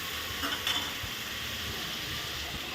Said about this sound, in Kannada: ಈರುಳ್ಳಿ ಹಾಕ್ಕೊಳ್ತಾ ಇದ್ದಾರೆ. ಇದು ಚೆನ್ನಾಗಿ ಫ್ರೈ ಆಗಬೇಕು.